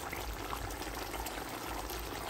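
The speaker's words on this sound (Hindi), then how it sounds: "चलिए अब हम इसमें पिसा हुआ मसाला पेस्ट डाल देते हैं" Ground masala paste hits mutton that has been frying in a pan, bringing a steady, close wet sizzle and bubbling that holds evenly throughout with no talk.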